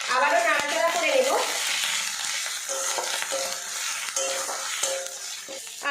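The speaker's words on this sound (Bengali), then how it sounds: "আদা রসুন পেঁয়াজ ভালো করে ভেজে নিয়েছি" Onion paste with ginger-garlic paste fries and sizzles in a pan, stirred steadily with a spoon scraping the bottom, a continuous close frying hiss. A voice speaks briefly near the start.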